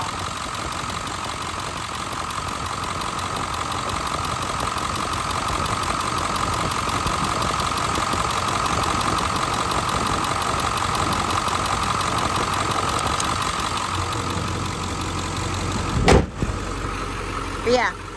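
A Ford F350 crew cab short bed with the 7.3 Powerstroke diesel idles steadily nearby, a smooth, even rumble with a faint ticking clatter, and a few bumps and clunks near the end.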